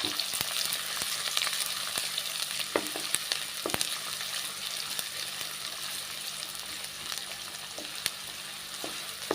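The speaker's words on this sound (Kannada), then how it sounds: "ಈರುಳ್ಳಿ ಗೋಲ್ಡನ್ ಬ್ರೌನ್ ಬರೋವರೆಗೂ ಫ್ರೈ ಮಾಡ್ಕೋಬೇಕು" Medium-size onions, finely chopped, frying in a pan for chicken sukka, a steady soft sizzle with occasional stirring clicks and scrapes, fairly quiet and without talk.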